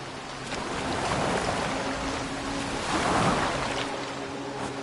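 A boat sails across open water in Assassin's Creed Valhalla, with waves washing and surging against the hull in slow swells over a low wind rush, loud and close, without speech.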